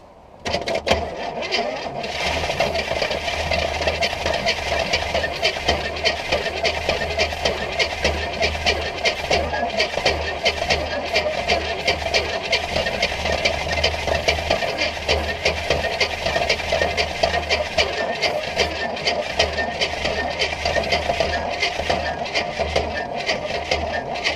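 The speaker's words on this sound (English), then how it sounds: "That was a lot of cranking." An abandoned 1968 Buick Skylark, sitting 40 years, cranks for a long stretch trying to start, a continuous rhythmic churning drone with rattly mechanical chatter, loud and close, with no talking over it.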